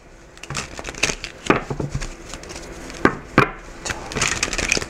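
Tarot cards being shuffled by hand, with irregular crisp riffles and slaps repeating close up over several seconds and no talking.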